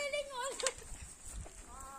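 Baby goats bleat in short, wavering cries at a farm in Masbate, fairly close, mixed with people talking in the background.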